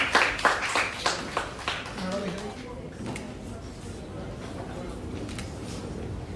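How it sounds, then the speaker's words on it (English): Several sharp claps at the start give way to a steady wash of conference audience applause, with a voice speaking over it near the microphone. "please give a big round of applause"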